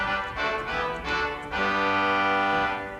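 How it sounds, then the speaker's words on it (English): English post horn fanfare reed stop on a pipe organ, bright brassy tones sounding a short run of notes before settling into one loud sustained chord. "This first is a fanfare reed called an English post horn."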